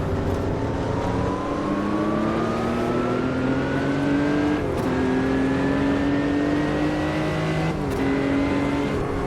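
A race car engine in the Automobilista 2 racing game revs continuously, pitch climbing steadily through gears with brief shift dips, loud and constant throughout.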